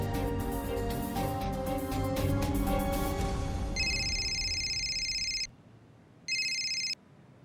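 A telephone rings during a family drama scene: background music fades out as a bright electronic ring sounds in two bursts, a long one and then a shorter one after a brief pause, clear and near.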